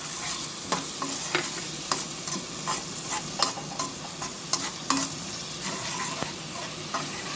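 Chopped tomato frying with onion and garlic in a pan, a steady sizzle broken by repeated sharp scrapes and clinks of a stirring spoon, with no voices.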